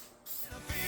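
Aerosol spray of high-temperature paint hissing onto a Farmall B tractor muffler, a quiet start followed by two bursts of steady close spray with a brief pause between them.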